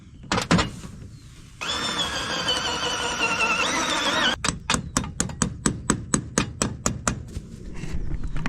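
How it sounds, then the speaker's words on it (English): A loud grinding burst gives way to a run of evenly spaced, sharp hammer blows driving bolts through wood, about a dozen strikes ringing out close by. "with that hammering we just did, we got the bolts through and they're nice and flush"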